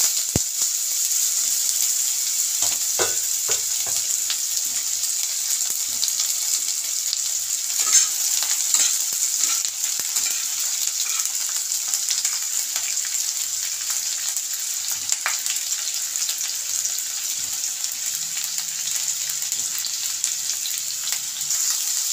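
Chopped carrots with bay leaves and cumin fry in a pan with a constant bright sizzle, broken by occasional stirring scrapes and taps, close and steady throughout.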